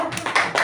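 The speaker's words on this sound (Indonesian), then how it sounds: "Tepuk tangan dulu." A short burst of hand clapping from a small group at a school teachers' session, a few quick uneven claps at moderate loudness, close by.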